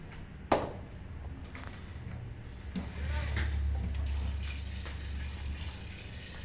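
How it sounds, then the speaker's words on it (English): Water poured from a tap into a pot of tomato and pepper stew, a soft continuous running gush that follows a small clank, steady and close with no voices. "we're going to add water to cover."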